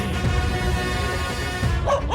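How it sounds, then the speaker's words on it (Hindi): A dog in a movie scene barks and yips in a few short bursts at close range, over a busy background of ambience. "अरे डॉगी भाई, काहे को भौंक रहे हो?"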